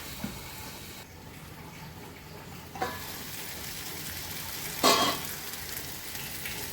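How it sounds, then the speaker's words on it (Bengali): Vegetables fry slowly in oil over a low flame, giving a faint, steady sizzling hiss with a few light stirring clatters. "এটা এখন আস্তে আস্তে একটু ভাজা হবে।"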